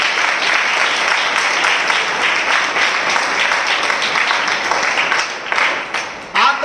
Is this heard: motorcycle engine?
no